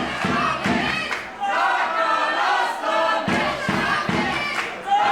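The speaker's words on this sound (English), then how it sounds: "You can hear the majority of the crowd supporting the former GWF World Champion." A wrestling crowd in Berlin cheers and chants for Tarkan Aslan at a GWF show, a dense roar with rhythmic thumping stomps or claps throughout, loud and continuous with a commentator's voice faintly mixed in.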